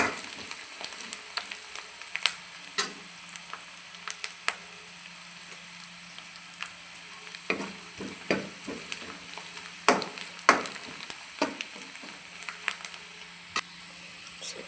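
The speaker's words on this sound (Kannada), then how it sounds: "ಕಾಶ್ಮೀರ್ ಚಿಲ್ಲಿ ಪೌಡರ್, ಸ್ವಲ್ಪ ಹುರ್ಕೊಳ್ಬೇಕು" Kashmiri chili powder frying in a pan for a wild mango curry, a soft steady sizzle under repeated sharp scrapes and clicks of a spoon stirring against the pan, close and alone with no talk.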